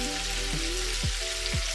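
Steady crackling sizzle of jumbo butterfly shrimp deep frying in hot oil, continuous and close, with a low background hum.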